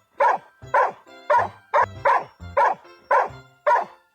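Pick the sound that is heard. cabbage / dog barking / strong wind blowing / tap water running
dog barking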